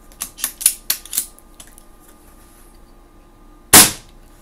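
Several sharp air rifle shots fired through an FX Radar MK2 chronograph: a quick run of five or six cracks early on, then a faint tick or two, and after a pause one loud, close crack.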